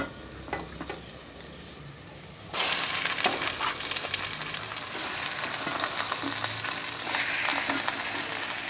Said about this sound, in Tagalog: Isangkot sana po natin si pork.